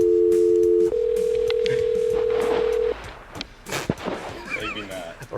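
Dial tone on a call-in radio show's phone line, a steady electronic tone holding for about three seconds before cutting off into studio chatter and clicks.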